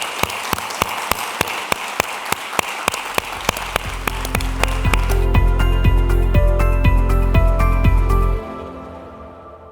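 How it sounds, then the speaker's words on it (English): Conference audience applauding panelists at a symposium in Thessaloniki: a few sharp, distinct claps at first, then swelling into loud, sustained applause from the whole room before cutting off. "A big round of applause."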